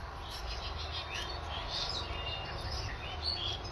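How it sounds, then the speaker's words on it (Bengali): Bulbuls and other small birds chirping and calling as they squabble over puffed rice, a steady mix of quick high tweets and chatter close by over low background noise. "বুলবুলি ঝগড়াটি পাখি, ওই দেখো ঝগড়া করছে"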